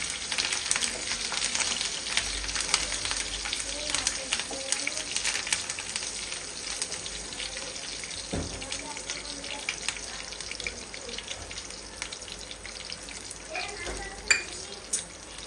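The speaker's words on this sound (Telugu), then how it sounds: "మంచిగా ఫ్రై అవ్వాలి." Ingredients for tomato chutney fry in a pan with a steady, close sizzle and occasional stirring scrapes, the hiss continuous and fairly loud throughout.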